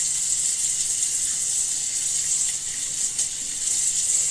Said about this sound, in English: get your dish towel wet again with hot water